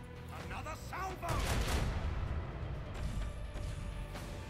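A second macro cannon salvo erupts in the Warhammer 40K Rogue Trader video game, a deep thundering cluster of overlapping cannon blasts that swells after a brief lead-in and rumbles on before fading.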